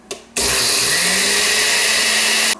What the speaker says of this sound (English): you're gonna put it in a blender, and you're gonna pulverize it